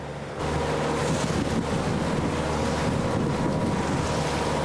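A boat named Puffin motors past the Powell River pulp mill into a roughly 15-knot headwind, with steady loud wind rush and wave wash filling the whole stretch after a brief quieter start.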